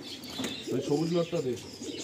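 A pigeon being released from a loft beats its wings in a quick flutter near the listener, along with soft cooing sounds, while someone speaks at the same time.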